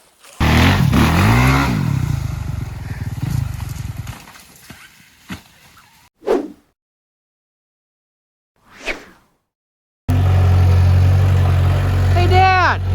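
A Honda 450R dirt bike engine starting and revving, with loud bursts of throttle and falling pitch as it idles down, short blips, a silent gap, then another loud revving run.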